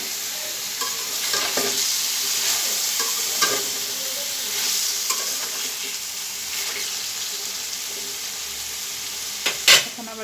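Cucumber frying in a pan makes a continuous sizzle while a utensil stirs it, producing intermittent scraping and a few sharper clinks, with a brief louder knock near the end; no voices.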